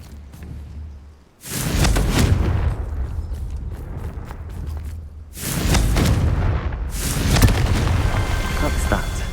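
Confringo fire spell blasts in the Hogwarts Legacy video game: two loud, sustained booming explosion bursts with rumbling low end, the first dying away before a second and third roll in, no talk over them.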